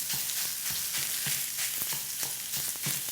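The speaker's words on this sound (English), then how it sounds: "I'm just gonna throw the turkey in and let it brown up" Ground turkey browning in a hot pan, a continuous loud sizzle and crackle with soft rhythmic scrapes of stirring underneath, no talk.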